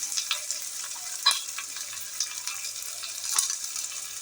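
Spices such as turmeric fry in hot oil in a pan, giving a soft, steady sizzle broken by a few sharp clinks and scrapes of stirring.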